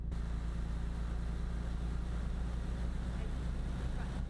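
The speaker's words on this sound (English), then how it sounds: "this time we're in bumper view for the scenery and the sound of the engine" A truck engine in Euro Truck Simulator 2, heard from the bumper view, drones as a steady low rumble, loud and unbroken, with no voices over it.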